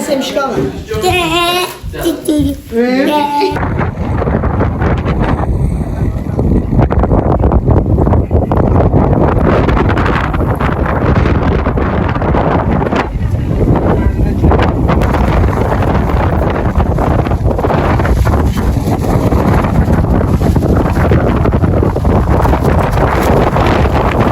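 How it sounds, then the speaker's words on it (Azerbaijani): Heavy wind at the sea roars and buffets the microphone continuously, loud and rough, after a brief opening of voices; a voice speaks now and then under the gusts. "Çünki hava o qədər küləkli idi qızlar."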